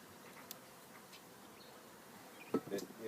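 Faint, steady buzzing of honey bees at a hive holding a captured swarm hums at low volume throughout, with a brief louder chirp-like sound near the end.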